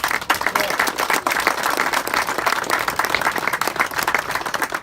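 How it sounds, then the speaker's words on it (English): Sustained applause from a crowd at a B-25 Mitchell bomber visit in Grayson County, dense steady clapping throughout at a fairly loud level. "I want to give him a round of applause."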